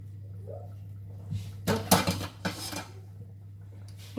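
A lid goes onto a roasting pot holding a slow-cooked leg of lamb, giving a couple of close metallic clanks and scrapes over a steady low electrical hum, with no voices.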